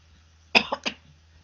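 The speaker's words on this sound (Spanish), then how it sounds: "Ay, perdón, que me dio tos." A single short cough bursts out in two or three quick, close spasms, loud against a quiet room with a low steady hum, from someone speaking Spanish during a class talk on democratic principles.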